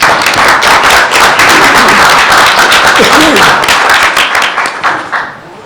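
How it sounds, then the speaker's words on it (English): Applause at a school board meeting welcoming a new Director of Human Resources, close, loud clapping from a modest group with a brief voice midway, fading out at the end. "Let's give her a round of applause"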